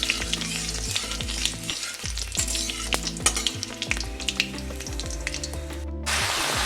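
Spinach sizzles and crackles in hot oil with mustard seeds and green chili, with constant close frying hiss, popping, and stirring clatter throughout.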